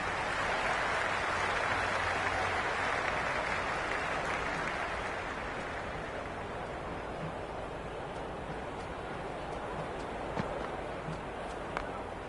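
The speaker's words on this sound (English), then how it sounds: "The crowd is electric right now." A stadium crowd in the cricket video game Cricket 26 keeps up a steady, distant roar of cheering and applause, fading slightly as it goes on.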